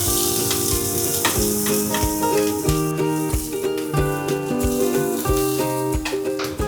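Finely chopped onion fries in oil with a steady crackling sizzle, while a series of clear ringing tones and taps sound repeatedly over it.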